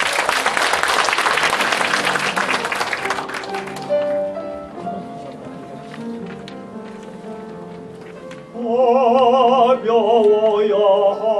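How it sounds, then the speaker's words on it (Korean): Audience applause at a Korean art-song recital, a dense clatter of clapping for about three seconds that fades out as piano and a singing voice begin. "여러분 큰 박수 부탁드립니다."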